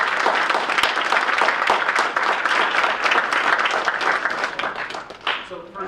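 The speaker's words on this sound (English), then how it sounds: "let's give one more round of applause" Audience applause for a row of panelists at a television and radio broadcasting media day panel, steady dense clapping from a seated crowd for several seconds, fading at the end as a voice begins speaking.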